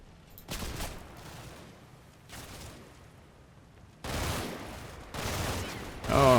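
Gunfire in the World War II strategy game Combat Mission: Battle for Normandy, coming in separate bursts and volleys, with a quieter early burst and louder salvos near the end.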